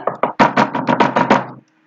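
A door is banged on hard from the other side, with about eight fast, loud, heavy thumps in a quick burst, then abrupt silence. Close and clear, with no talk.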